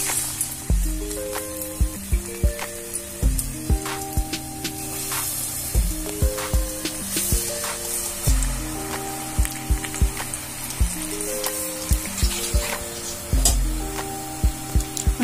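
Mangalore bonda batter drops into hot oil in a pan on a medium flame, giving a continuous crackling sizzle with spattering pops throughout. Steady, loud background music plays over it.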